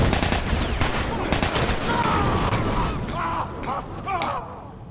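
Rapid bursts of gunfire from The Last of Us gameplay crackle loudly and continuously throughout, dense and close, with faint game mechanisms and tones mixed in toward the end.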